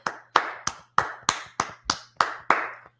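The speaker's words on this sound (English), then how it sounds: "Let's clap it up for the Lord." Congregation clapping in unison during a Tuesday Brotherhood class at a religious meeting, about ten sharp, evenly spaced claps in a steady rhythm, close and distinct over a faint low hum.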